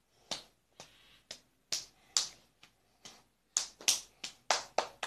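A dozen or so sharp hand claps in an uneven, rhythmic sequence during a yoga routine, close and crisp with short silent gaps between them.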